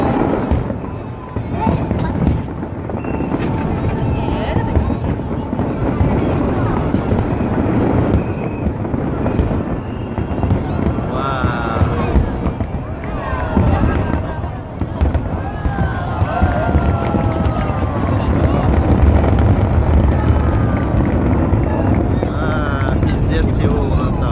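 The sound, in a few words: fireworks exploding at Seoul fireworks festival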